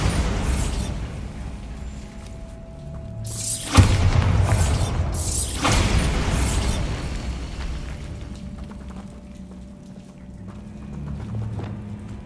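Bombarda spell explosions in the video game Hogwarts Legacy, with two loud, broad blasts a couple of seconds apart over a steady rumbling game background that trails off into ambient sound.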